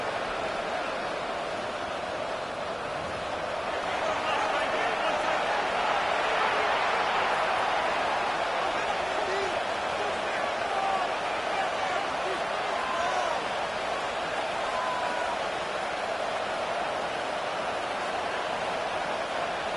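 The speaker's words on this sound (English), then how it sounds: "The crowd cranking it up another notch before 3rd and long." A football stadium crowd keeps up a loud, continuous roar before a third down, a dense wash of cheering with no break for the whole stretch.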